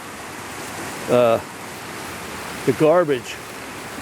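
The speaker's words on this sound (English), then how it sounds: "This is the bad part about a flash flood." Flash-flood water rushes steadily down a trash-choked creek after a big hail storm, a continuous broadband roar under a man's brief speech.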